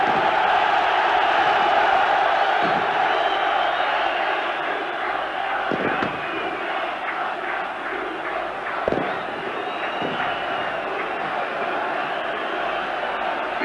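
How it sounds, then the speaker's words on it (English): A Yugoslavian football crowd in a packed stadium roars and cheers after a goal, a loud sustained wall of voices with whistles and shouts rising above it throughout. "The Yugoslavian crowd obviously delighted with that."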